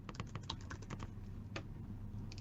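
Someone types a fuzzy product-name search on a keyboard for an inventory app, with a quick cluster of faint key clicks followed by a pause and a few scattered taps, quiet and close with no voices.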